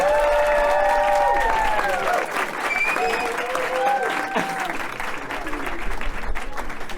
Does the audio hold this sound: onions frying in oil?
no